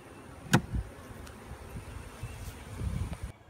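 Honey bees buzz around hive frames beside a nuc box, a steady low drone broken by a few close, brief sounds of handling.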